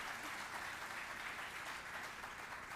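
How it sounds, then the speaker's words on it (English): Continuous crowd applause, a dense patter of many hands clapping at a steady level throughout. "Yeah, another round of applause."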